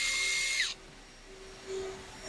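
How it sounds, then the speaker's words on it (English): A power drill with a 7/32 bit pre-drills into a composite camper panel, a short high whine that stops abruptly, followed by a quiet pause and faint tool hum. "we do need to pre-drill into the panel itself"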